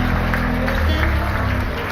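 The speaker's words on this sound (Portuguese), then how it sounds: "Aplausos ao Senhor, aplausos ao Senhor" Congregation applauding during a Sunday morning church service, a dense, continuous wash of clapping over a low sustained musical drone, brief and steady.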